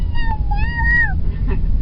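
A voice imitates a cat's meow, drawn-out tonal mews repeated twice in quick succession, close and clear over a low background rumble.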